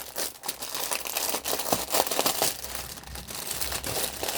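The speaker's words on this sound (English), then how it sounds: "excuse some crinkling" A plastic bag of cross-stitch threads from a craft store haul being handled: close, irregular crinkling and rustling that runs the whole time with no voices.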